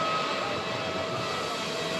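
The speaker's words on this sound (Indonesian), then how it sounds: "pesawat Garuda Indonesia tiba di Bandara Soekarno-Hatta dan saat ini sudah terparkir" A Garuda Indonesia airplane arriving at Soekarno-Hatta Airport, a steady broad jet engine roar with a faint whine, constant and moderately loud without speech.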